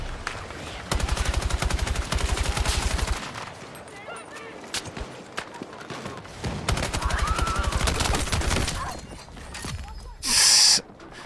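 Rapid automatic gunfire from a Battlefield 6 firefight comes in loud, fast bursts separated by quieter gaps, with a louder burst near the end and a voice talking over parts of it.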